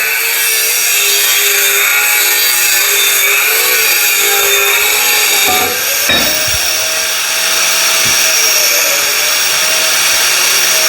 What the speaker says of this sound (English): It's nice to see a fellow worker use a grinder to cut rubber.